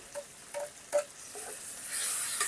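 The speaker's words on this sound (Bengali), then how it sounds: "রসুনটা একটু ভেজে নেবো" Garlic paste frying in a pan with softened onion and tomato, a soft sizzle under a few scraping stirs of the spoon that grows into a steadier hiss toward the end, close and moderately quiet.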